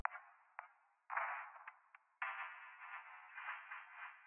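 A percussive sample loop processed with EQ and reverb plays in isolation, thin and band-limited, with sharp hits trailing into a reverb tail before a sustained, shimmering tonal section.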